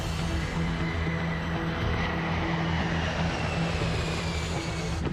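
A KLM Boeing 747 accelerates down the runway on its takeoff roll, a loud, steady broadband engine roar with a low droning hum that holds constant throughout, no voices heard.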